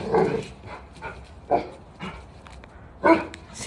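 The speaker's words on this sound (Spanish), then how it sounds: "Dos perros juntos son felices." Cane Corso dogs give a few deep, close barks spaced about a second apart, loud against a quiet indoor background.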